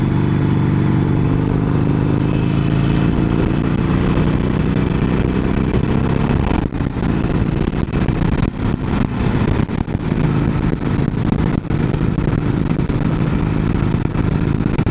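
Motorcycle ridden at night on well-lit roads, its engine droning loudly and steadily with rushing wind, joined by faint clattering and rattling in the second half, and no talk.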